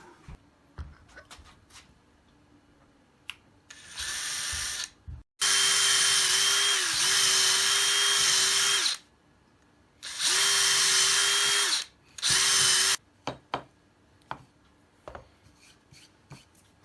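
Power drill driving wood screws into MDF: several whirring bursts of a few seconds each with a steady motor whine, loud and close, separated by pauses with light handling clicks.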